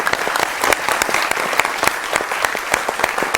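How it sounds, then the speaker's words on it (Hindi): A studio audience keeps up strong applause for decorated army soldiers, a loud, close crowd of clapping hands with distinct sharp claps punctuating the continuous patter. "आपकी तालियां ठंडी पड़ रही हैं"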